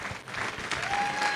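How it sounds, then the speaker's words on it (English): A crowd at a FIRST Tech Challenge robotics competition in Southern Alberta claps in a sustained burst of applause, dense and steady throughout. "Giant round of applause for everybody who participated in this year."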